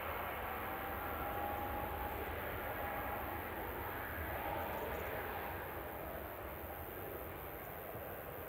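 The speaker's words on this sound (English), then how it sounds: "Two is lining up. KLM 1030 to Amsterdam, PHNXN. It's an E2." A KLM Embraer E2 jet bound for Amsterdam lines up on the runway at Manchester Airport, a steady, moderate, distant engine rumble holding evenly throughout with no talk.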